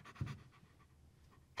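A German Shepherd, honorary mayor of Niagara Falls, pants close to the microphone in a quick run of short, soft breaths that fade, followed by a louder burst at the very end.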